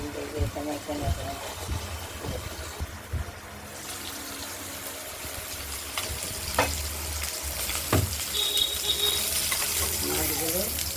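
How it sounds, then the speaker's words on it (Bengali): Pieces of katla fish fry in spluttering oil in a home kitchen, giving a steady sizzle with sharp spits and pops. Someone talks over the frying, and utensils clatter now and then. "তেল ছুটতে ছুটতে আসবে, এখানে এখানে এখানে।"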